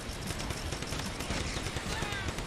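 Rapid, continuous gunfire in the video game Cannon Fodder 3, a steady dense rattle of small-arms shots at moderate level that runs through the whole moment without a break.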